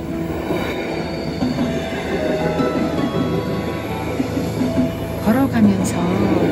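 A train rolls past near Interlaken West station in Switzerland, a steady loud rumble of wheels on rails with a brief squeal toward the end, while a person speaks over it.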